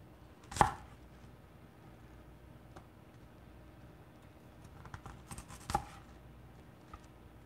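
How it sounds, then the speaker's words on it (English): A knife chops bok choy on a cutting board in a home test kitchen, with a few scattered sharp knocks and light taps spread over quiet background, no talking. "Chopping the bok choy too."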